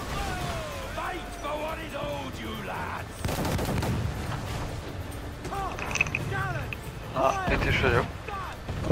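Ship cannons firing in the pirate game Assassin's Creed Black Flag, heavy booming blasts breaking out around the three-second mark and again near the end, loud over a busy mix of voices and game music.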